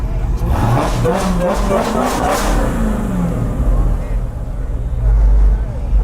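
A powerful Dodge Hellcat engine revs and rumbles nearby at a late-night car meet, rising and falling in pitch, with voices talking over it.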